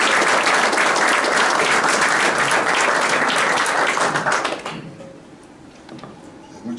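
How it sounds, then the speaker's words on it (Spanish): An audience at a book presentation gives loud, dense applause that holds steady for about four seconds, then fades quickly into quiet room tone with a few stray claps. "les pido un fuerte aplauso para hacer la palabra"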